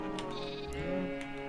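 Sheep bleat in the video game Minecraft Sky Factory, several short wavering bleats in quick succession, fairly quiet and without voices.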